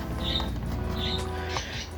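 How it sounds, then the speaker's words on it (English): A pet bird gives a few short, bright chirps indoors over a low background hum, quick scattered calls within a couple of seconds. "If you hear a bird, it's one of my birds"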